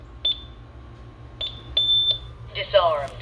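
A Honeywell security alarm system keypad gives a sharp beep, then two more beeps in quick succession, the last one held longer. Afterward a synthesized voice speaks.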